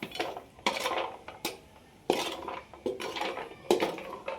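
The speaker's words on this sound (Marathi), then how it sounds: "तर बघा अशा हळकुंड चांगले भाजून घ्यायचे." Dried turmeric roots being roasted in a pan for homemade chutney, with irregular clattering knocks and scraping as the hard roots are stirred and tossed, fairly close and loud, with no voices.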